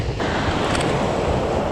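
Strong wind blows steadily across the microphone on the coast at Estero Bluffs, a loud continuous roar mixed with the wash of surf and no voices.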